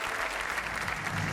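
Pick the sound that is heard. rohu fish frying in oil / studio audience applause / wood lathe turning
studio audience applause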